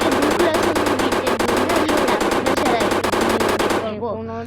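Sustained automatic gunfire from the video game GTA 5, a loud, continuous rapid rattle of shots that fills the clip before cutting off abruptly near the end.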